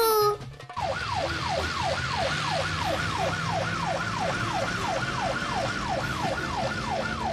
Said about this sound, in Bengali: পিছনে পুলিশের গাড়ি আসছে মনে হচ্ছে